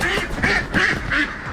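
A flock of ducks at a poultry farm quacks continuously in dense, overlapping calls, several voices loud and close in steady repeated bursts.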